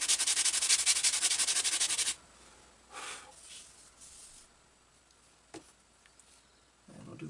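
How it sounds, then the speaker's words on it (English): Close, dry rubbing of sandpaper over a glued joint on a balsa PT-20 model airplane, a dense scraping burst for about two seconds, then a few short, fainter strokes and light taps. "And just sand it. The sawdust goes into that glue joint."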